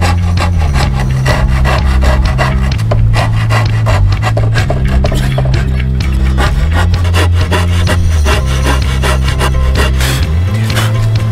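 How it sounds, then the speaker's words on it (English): A basic hand rasp scrapes along the edge of a wooden desk in loud, close, rhythmic back-and-forth strokes, a continuous rough filing rasp with steady pulses. "I'll do that all with just using a basic rasp."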